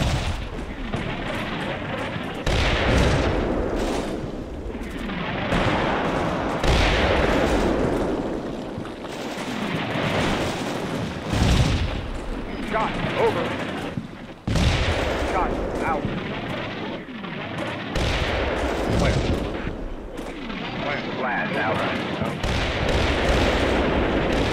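Artillery fire in the urban combat game Combat Mission: Black Sea, with repeated loud booms and blasts in irregular bursts mixed with gunfire, while voices call out radio fire-control procedure over the top.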